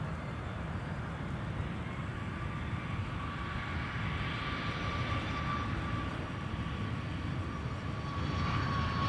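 A heavy MD-11 jet touches down at Minneapolis–St. Paul Airport, its engines a steady distant roar with a rising high whine and no voices.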